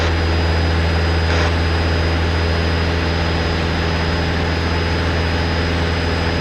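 A training airplane's engine roars steadily at full power during an overshoot in a flight-training circuit in Canada, a loud continuous drone with a strong low hum filling the cabin throughout.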